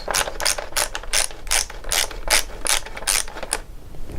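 A ratchet clicks in quick bursts as screws are undone to take off the windscreen of a KTM 1290 Adventure R motorcycle, about ten close, loud, rhythmic rasping pulls in a row with no talking.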